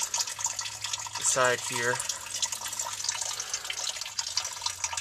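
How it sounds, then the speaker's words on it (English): Coolant drains from a Ford 6.9 diesel engine in a soft, continuous trickling splash, with someone speaking briefly over it. "while that's draining, that'll take forever"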